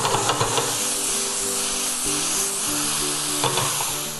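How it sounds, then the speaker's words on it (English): Morel mushrooms brown in hot ramp and onion oil, making a loud, continuous close sizzle and hiss with a few sharper spits near the start. No voice is heard. "we're gonna add the mushrooms into our rampy, oniony oil and let those brown"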